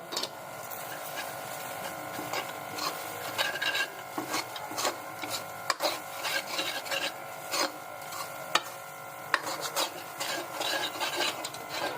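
Spices being stirred into beef paya in a pot, a steady scraping and rubbing of a spoon against the pot, with repeated soft strokes running continuously and fairly close.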